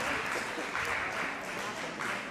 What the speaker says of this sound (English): Please keep clapping for her, as she's bouncing.